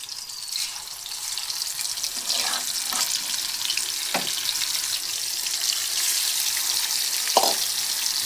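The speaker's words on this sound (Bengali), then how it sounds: "মাছটা সুন্দর করে ভেজে নিব" Fish frying in a pan with oil, a steady bright sizzle throughout, broken by a few short stirring or shifting clinks and spatters, close and fairly loud with no talking.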